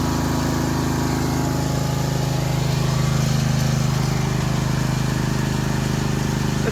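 A Winco HP9000E generator engine with low compression on cylinder 1 and valve trouble idles in a loud, unbroken, even drone close by.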